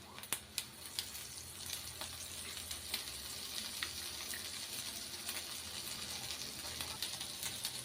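Leftover ragi sankati pieces fry in a pan as oil is drizzled over them, giving a soft, steady sizzle with a few light clicks and taps close by.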